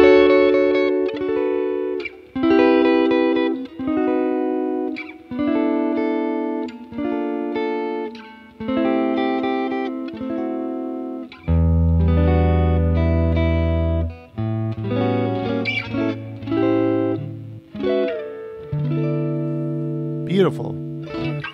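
Clean electric guitar on the neck pickup runs through a Tweed Deluxe amp plugin with a pedal and a touch of plate reverb, playing sustained chords and single notes in phrases, full and close with ringing decays.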